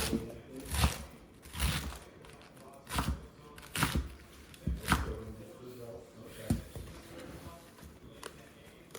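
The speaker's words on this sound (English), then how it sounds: "Here we go with the chop." Knife chopping food on a cutting board, with roughly nine crisp strikes at an uneven, steady pace, close and moderately loud over faint room noise.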